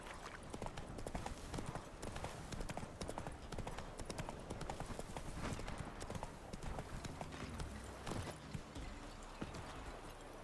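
Hooves clip-clop in a fast, steady rhythm as Geralt's horse Roach gallops in The Witcher 3: Wild Hunt, loud and close throughout.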